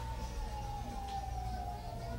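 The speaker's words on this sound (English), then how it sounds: "Sounds like sirens" A single steady siren wails at a distance, its pitch holding level and drifting slightly, over a low rumbling background.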